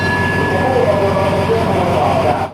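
A train rumbling past close by, a loud steady roar with rhythmic wheel clatter and a faint high squeal, cutting off abruptly at the end.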